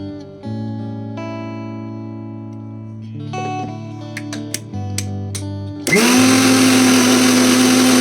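Mixer grinder blending green chilli into a paneer tikka marinade, starting as steady tonal hum with scattered clicks before a loud, dense grinding roar takes over for the last two seconds.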